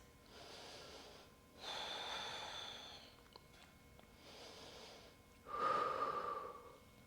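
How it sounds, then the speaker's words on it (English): Slow, deep breaths during a power yoga flow, three long swells of inhaling and exhaling spaced a few seconds apart, close and fairly soft, with the last breath the strongest and no talking. "Long and deep breaths."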